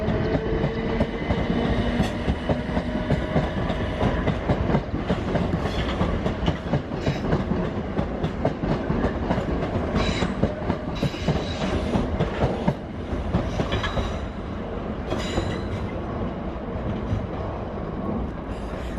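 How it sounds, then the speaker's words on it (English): A Gatwick Express passenger train rolls through Clapham Junction with a steady, close roar and continuous clickety-clack of wheels over rail joints, plus occasional metallic squeals, lasting the whole stretch. "That's the Gatwick Express."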